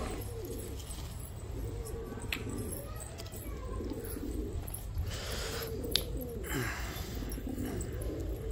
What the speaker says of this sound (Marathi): ज्यांना कबूतर उडवायचा शौक असेल त्यासाठी हा कलेक्शन आहे